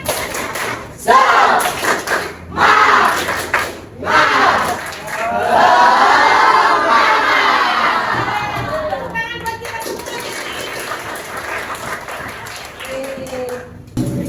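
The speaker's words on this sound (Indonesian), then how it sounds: "yuk kita kasih semangat buat diri kita sendiri ya. Tepuk semangat" An Indonesian school class doing a rhythmic group clapping chant, with bursts of claps and children shouting together in unison, loud and close, followed by scattered chatter.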